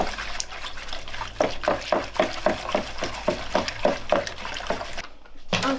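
A homemade zero-waste mixture is stirred in a container, giving a run of regular wet swishes and clinks about twice a second, close and clear, before a brief break and a final stir.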